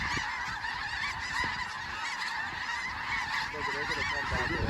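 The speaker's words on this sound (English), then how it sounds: "Look at these birds that are coming in behind them here." Snow geese honking in flight over a South Dakota hunt, a dense continuous chorus of many overlapping calls, fairly near and steady throughout with no talking.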